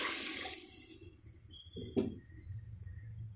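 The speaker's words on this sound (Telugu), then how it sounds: "ఈ వాటర్ వేసుకుందాం." Water measured in glasses is poured into frying rice for a veg biryani, giving a brief splashing gush near the middle over a steady background hiss, with no talk.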